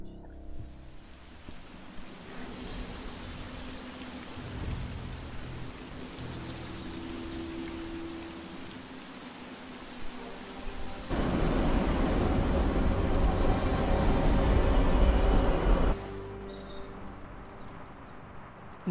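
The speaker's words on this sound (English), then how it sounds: "Oh yeah, it's definitely rain." Rain falls steadily in the video game Midnight Suns, a soft continuous patter that swells into a heavier, louder downpour for several seconds before easing back to a light background hiss.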